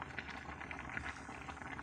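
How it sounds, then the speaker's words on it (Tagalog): Pasta boils in a pot of salted, oiled water on a home stove, a faint, steady bubbling hiss with soft irregular pops throughout. "kumukulo na yung ating pasta"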